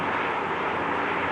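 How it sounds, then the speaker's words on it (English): Firefighting helicopters flying low over a neighborhood burning in a wildfire near Highway 97 West, heard as a steady, loud broadband rotor and engine roar with no voices. "Helicopters continuing to bucket this neighborhood here."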